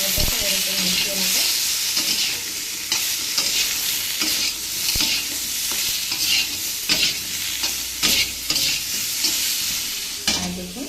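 Chopped potato and brinjal seasoned with salt and turmeric fry in hot oil in a pan, a steady close sizzle broken by repeated scraping stirs of a spatula throughout, with no talking.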